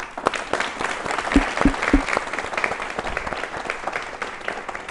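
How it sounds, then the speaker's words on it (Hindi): Loud, dense applause from an audience at a police-services career talk fills the whole stretch, with sharp individual claps standing out over steady clapping and no voices. "जोरदार तालियों"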